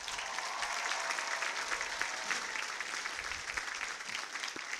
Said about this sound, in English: Can we please give them all a huge round of applause?